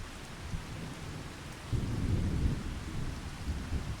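Steady rain keeps falling on a farm, with a low rumble of thunder swelling midway and rolling on beneath the hiss; no voices.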